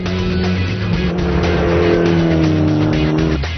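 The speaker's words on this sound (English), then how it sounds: "Just a gentle drift all the way out to the rumble strips." A Mitsubishi Lancer Evolution drifts through a race track corner in third gear, its engine droning loud and steady while the tires squeal continuously, the pitch easing downward near the end.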